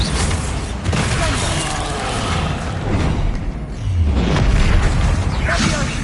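A Bombarda spell blast in the video game Hogwarts Legacy, heard as deep booming explosions amid constant battle noise, with a heavier low thud rising near the end.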